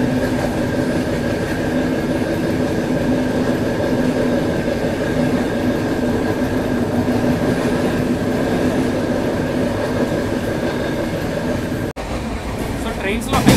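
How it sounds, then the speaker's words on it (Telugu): The Coromandel Express runs along the rail tracks with a loud, steady roar and rumble of wheels and carriages. The sound is continuous and close, as if heard from on board, with a brief dip near the end. "మోస్ట్ ఇంపార్టెంట్ ట్రాక్ సౌండ్ మాత్రం చాలా బాగుంటాయి"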